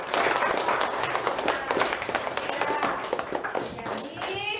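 Students in a classroom clap together in a dense burst of fast, sharp claps lasting several seconds, fairly near, with voices mixed in.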